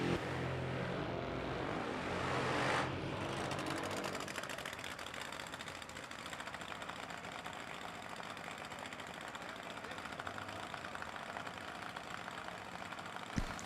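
A drag racing motorcycle makes its final pass of the evening at the AMRA Jim McClure Finals, a loud, sustained engine roar that swells early on and then holds steady, alone, without any talk.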